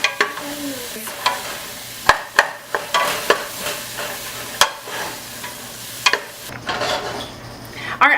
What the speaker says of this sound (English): we're gonna put all of our vegetables in there and stir them around until the onions become translucent